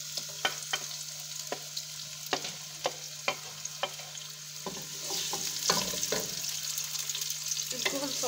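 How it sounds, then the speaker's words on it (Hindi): Two medium onions fry in hot oil for Kabuli pulao, with sharp utensil taps at first and then a denser, continuous close sizzle as they are stirred. "जैसे ही ऑयल गर्म हो जाए इसके अंदर जो प्याज है 2 मीडियम प्याज वो ऐड कर देंगे।"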